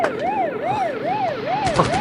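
Police car siren wailing in a regular rising-and-falling cycle, loud and close, repeating about four times with a brief clatter near the end.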